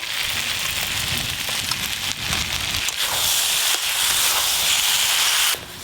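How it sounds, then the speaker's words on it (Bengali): Fried fish heads going into a boiling curry of potato, pumpkin and drumstick stalks, giving a steady, loud bubbling hiss and sizzle throughout, with a brief surge near the end. "ভেজে রাখা মাছের মাথাগুলো দিয়ে দেবো।"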